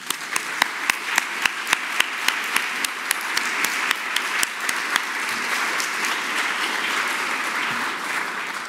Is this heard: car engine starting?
no